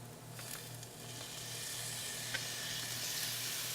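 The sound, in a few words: garlic sizzling in a pan with translucent onions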